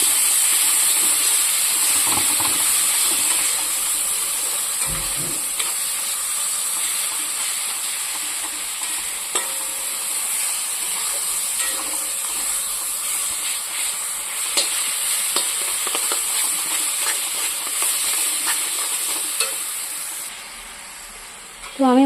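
A spice paste being fried and stirred in a pan for a prawn and amaranth greens ghonto gives a continuous bright hiss with scattered scraping and stirring knocks, steady and fairly close throughout.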